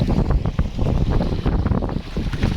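A motorized outrigger boat crosses the sea toward a white-sand island, with a steady low engine rumble buried under heavy wind buffeting and the wash of waves.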